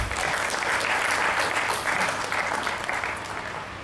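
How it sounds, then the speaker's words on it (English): Audience at a get-together giving a round of applause, a steady loud mass of clapping that eases slightly toward the end. "Please give him a big round of applause."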